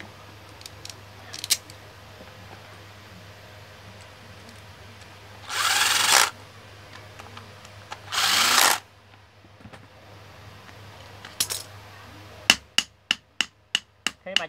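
Four screws go into an electric fan being repaired, with scattered clicks, two sustained whirring bursts of a screw being driven, then a rapid series of sharp taps near the end, close and without talk over a low steady hum.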